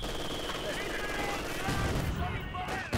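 A machine gun in Company of Heroes 2 rattles off bursts amid battlefield noise, with denser, louder firing near the end and a brief cutoff just before the close.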